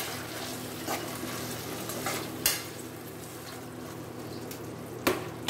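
Chopped tomatoes are stirred through a frying pan for an Andhra-style chana dal and fresh coconut curry, giving a soft continuous sizzle with light scraping and a couple of sharp clinks from the spoon against the pan.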